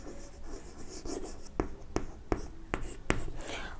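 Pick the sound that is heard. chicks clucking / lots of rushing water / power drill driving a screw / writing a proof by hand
writing a proof by hand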